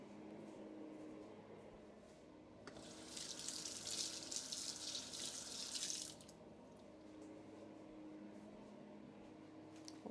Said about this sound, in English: Wash out my teaspoon.